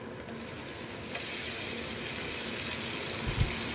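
Onion paste hits hot oil in a pan with boal fish and sets off a loud, steady sizzle that swells after a second and keeps frying close by, with no talk.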